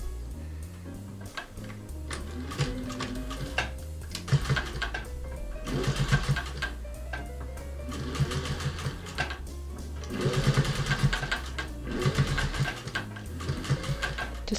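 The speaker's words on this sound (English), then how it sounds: "now I'll just sew over these 2 inches and close the hole" A domestic sewing machine runs in bursts of rapid mechanical stitching, stopping and restarting as it back stitches over a seam to close a hole in a fabric guinea pig cuddle cup bed, close and loud with no talk.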